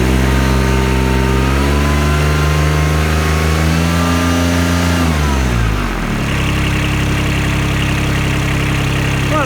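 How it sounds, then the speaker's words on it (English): A Kubota RTV 900 utility vehicle engine revs up loud and close with the handbrake on, pitch climbing steadily then dropping back toward idle. "So we'll just start revving the engine."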